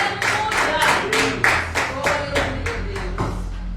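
A Pentecostal church congregation claps in unison, a steady rhythmic beat of about ten strong group claps, with voices speaking over the clapping.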